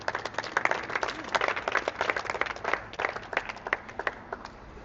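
A church congregation clapping hands during a sermon, a steady run of close, crisp claps from a group, fairly even in rhythm and moderately loud throughout.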